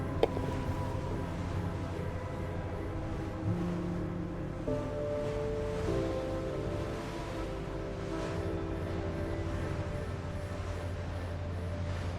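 Ocean waves in The Last Caretaker video game, a steady, continuous wash of surf with low rumbling swell that holds at an even level throughout, mixed with faint tonal hum, with no voices.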